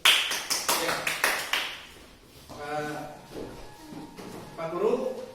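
Students in a classroom clap briefly, a short burst of sharp, close hand claps at the start that quickly fades out, followed by people talking.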